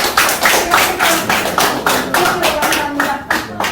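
Audience at a company briefing session claps in a steady run of sharp, close, evenly spaced hand claps lasting several seconds.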